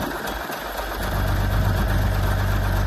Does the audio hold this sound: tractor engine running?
yes